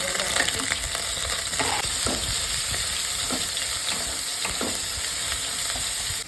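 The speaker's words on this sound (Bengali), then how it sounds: "কিছুটা রসুন মতো দিয়ে দেবো এরপরে পেঁয়াজ বাটাটা দেবো" Garlic and onion paste frying in a pan, giving a steady close sizzle broken by repeated scraping stirs, with no voices.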